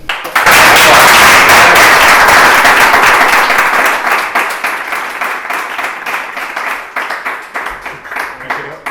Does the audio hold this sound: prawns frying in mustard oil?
no